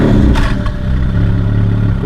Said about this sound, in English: my friend is gonna turn his car on so we can hear it